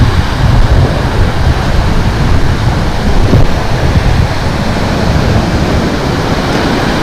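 Strong wind blows along the Waimanalo coastline on Oahu, Hawaii, a loud, steady broadband roar with buffeting against the microphone and surf mixed in, continuous for the whole stretch with no voices.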